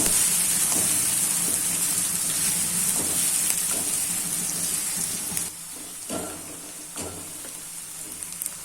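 Chopped onions sauté in hot oil with mustard seeds, cumin and curry leaves for a Gujarati moong dal shaak, giving a loud, steady sizzle that drops lower partway through, with occasional stirring clatters.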